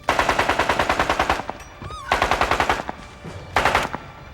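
Machine gun fire rings out in three rapid bursts of sharp, evenly spaced shots, loud and close, with brief gaps between bursts.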